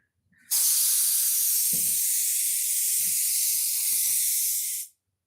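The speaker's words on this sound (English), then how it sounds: "hopefully you can hear me off over all this rushing air" A spray gun applies primer to a blocked tailgate panel with a loud, steady rush of hissing air that begins abruptly and runs for about four seconds before cutting off, while someone talks faintly underneath.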